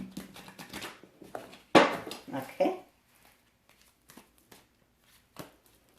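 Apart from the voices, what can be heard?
shuffling a deck of tarot cards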